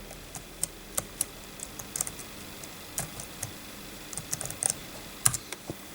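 Typing on a cheap second-hand netbook keyboard, a string of close, sharp plastic key clicks in irregular bursts, with short pauses between runs of keystrokes.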